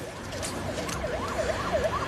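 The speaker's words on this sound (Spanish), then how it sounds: "Max Cortés llega al hospital en ambulancia con mareos, confusión y dolor torácico" An ambulance siren wails in a rising and falling pattern through the whole clip, moderately loud over background traffic rumble, with no talking.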